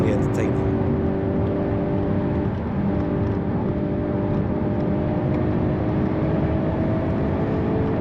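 A Hyundai Kona N petrol SUV powers around the Thruxton race circuit, its engine droning loudly and steadily with rising tonal whine, while someone talks over it.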